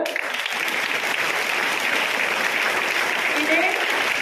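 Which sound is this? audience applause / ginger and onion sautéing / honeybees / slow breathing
audience applause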